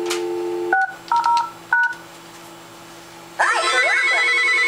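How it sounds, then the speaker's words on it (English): Three DTMF keypad tones sound on a trixbox phone system as 600 is dialed, short distinct beeps followed by a steady ringing tone. "I will dial 600 from this phone."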